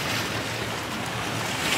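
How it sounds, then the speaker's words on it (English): River water on the Amber rushes over a dam beside a lock, a loud, steady broadband roar heard from a cruise boat, with some wind noise mixed in. "big waves as the water goes over the dam part of the water."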